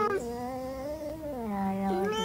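A cat gives one long, drawn-out meow that bends in pitch, loud and close, with no talking over it.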